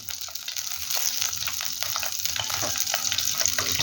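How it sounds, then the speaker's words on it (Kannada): Onions and curry leaves frying in melted butter in a pan for a pepper chicken gravy, giving a steady close crackling sizzle with scattered pops and no voices. "ಇನ್ನು ಕರಿಬೇವು, ಈರುಳ್ಳಿ ಎಲ್ಲ ಹಾಕ್ಕೊಳ್ಳಿ."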